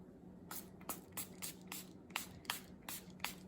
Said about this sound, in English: I'm gonna do a quick spray of alcohol.